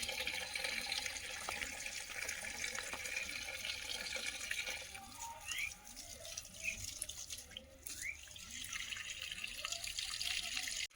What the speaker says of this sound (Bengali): এদিকে গাঁদা ফুলের চারাগুলো অনেকটা জল দিয়েছি, পুরোটা ভিজিয়ে দিয়েছি।